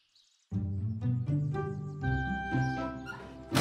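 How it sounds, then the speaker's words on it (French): A small dog whimpers, yips and barks in a run of close, high-pitched cries, with a brief quiet start before the calls begin loud and continuous. "Le petit chien appelle à l'aide."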